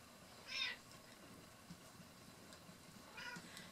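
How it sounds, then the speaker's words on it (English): A pet cat meowing indoors during a loom bracelet-making session, two short faint meows a few seconds apart over a quiet room hum. "My Juju kitty"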